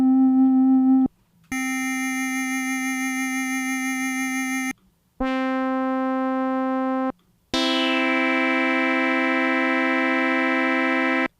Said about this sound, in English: This sounds almost like a sine wave.